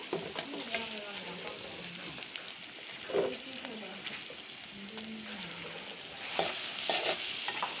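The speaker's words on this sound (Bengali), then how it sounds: "পেঁয়াজগুলি ভাজতেছি" Onions frying in a pan for a snakehead (gajar) fish dish, with a steady sizzle and scraping stir strokes throughout, a louder burst of frying near the end, and faint voice-like tones in the background.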